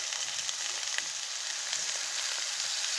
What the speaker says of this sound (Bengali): পেঁয়াজটা সামান্য পরিমাণ ভেজে নেব, যাতে পেঁয়াজের গন্ধটা চলে যায়।